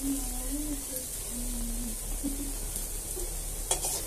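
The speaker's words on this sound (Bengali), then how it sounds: "ভালো করে মুচমুচে করে মুসুর ডালটা ভেজে নেব" A paste of ground red lentils fries in oil with salt, sizzling and hissing steadily up close while it is stirred, and a faint voice is heard briefly in the background.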